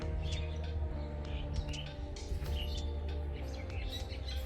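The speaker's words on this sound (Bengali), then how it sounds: "পাখির যে কিচিরমিচির আওয়াজ পাওয়া যাচ্ছে সেটা" Birds chirp around a village house, with short bright tweets scattered over a busy low background rumble and no talk, fairly faint overall.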